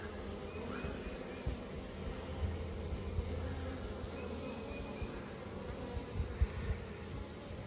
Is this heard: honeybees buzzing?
yes